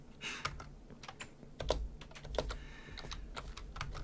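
Fast, uneven typing on a computer keyboard, close and fairly quiet, with sharp individual key clicks and a few heavier thumps, likely the spacebar.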